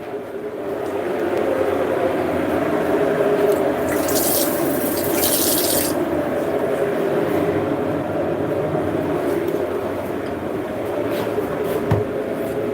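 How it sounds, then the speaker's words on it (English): Tap water runs steadily into a sink while fresh mint is rinsed, a continuous close wash of sound with a brief louder splash partway through. "Fresh mint. Just gonna give it a rinse."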